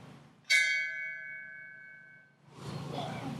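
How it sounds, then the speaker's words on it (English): A single fire station bell is struck once and rings with a clear metallic tone that decays over about two seconds, followed by a burst of broadband noise. "One such tradition is the sound of a bell."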